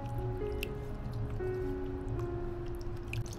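Raw chicken rinsed in water in a home kitchen, with steady splashing, dripping and squelching close by, continuous and fairly loud with no voices.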